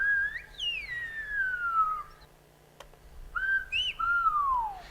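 Long, smooth whistled speech phrases that sweep down in pitch, two main bursts separated by a short pause, clear and fairly close.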